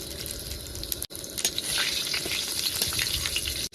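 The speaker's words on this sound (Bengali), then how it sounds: "ফোড়নে দিয়ে দিলাম শুকনো লঙ্কা, তেজপাতা আর গোটা জিরা।" Dried red chillies, bay leaves and whole cumin hit hot oil for tempering, giving a loud, steady, close crackling sizzle with a brief break near the start and stirring throughout.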